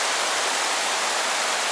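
Mountain creek water rushing steadily where Emery Creek and Holly Creek meet in North Georgia, a dense, even broadband roar with no pauses, close and fairly loud, no voices.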